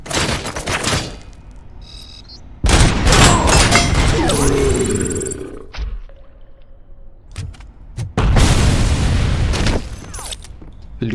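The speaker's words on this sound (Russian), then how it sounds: "Любят они эти гранаты." Grenades go off in the RoboCop: Rogue City shooter game, heard as several loud, booming blasts that each crash in and then trail off, separated by quieter stretches of game ambience.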